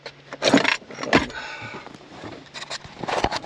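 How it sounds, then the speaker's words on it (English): Keys jangling in a RAM 1500 pickup's drawer, a few bright metallic jingling bursts close by, separated by quieter rummaging and handling sounds. "keys for everything in the back"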